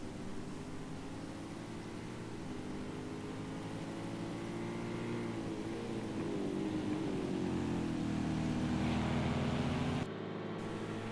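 GTE race cars lapping Watkins Glen in a sim racing game, a steady loud engine drone rising and shifting in pitch as the cars run close together, cutting out briefly near the end.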